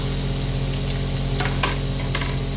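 Onion and tomato sauté in a pan with a constant loud sizzle and a few sharp scraping stirs, no voices.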